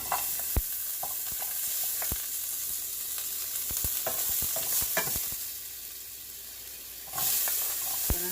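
Vegetables stir-fry in a Jamaican-style pan as carrot goes in, with a continuous close hiss and sizzle punctuated by irregular sharp scrapes and taps. The sizzle briefly softens, then surges louder near the end.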